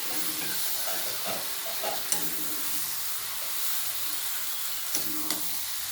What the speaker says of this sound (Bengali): মেখে মেখে এইভাবে আমি বাঁধাকপিগুলো কষিয়ে নেব।